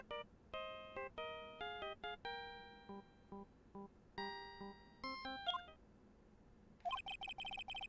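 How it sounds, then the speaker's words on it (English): A cheerful electronic ringtone playing the Seal Samurai kids' TV theme, from a phone in the Phoenix Wright: Ace Attorney game: a run of bright, bell-like melody notes with short pauses, ending in a denser chiming burst, with no talk over it. "I know that song your phone plays when it rings."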